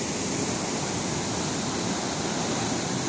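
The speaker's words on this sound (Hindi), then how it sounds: "ये है पानी का वो तख्ता जो कि पानी के बहाव को कंट्रोल करने के लिए इस्तेमाल किया जाता है" Water rushes through the barrage gate at Head Qadirabad on a canal headworks, a loud, steady, broadband roar that fills the whole stretch without a break.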